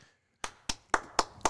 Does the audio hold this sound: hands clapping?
yes